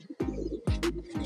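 Pigeons in a loft give short, close, throaty coos in quick succession, soft rolling bursts with a brief higher flutter between them.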